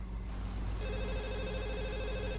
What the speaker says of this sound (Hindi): देखो, मैं जरा फोन सुन लूं।